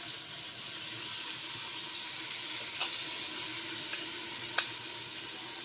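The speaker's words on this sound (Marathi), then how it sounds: "हे डाळ, ज्वारी, गहू ह्या डाळी यामध्ये टाकून द्यायच्या" Lentils, sorghum and wheat go into a cooking pot for khichda, giving a steady, even hiss with a few soft knocks and taps, with no voices.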